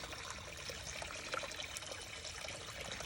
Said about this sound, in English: Let it drain for just a second.